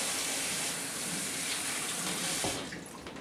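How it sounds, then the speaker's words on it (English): Tap water runs steadily into a sink during hand washing, a loud, close hiss that tapers off in the last second as the flow stops, with no talking. "Now we'll wash our hands again."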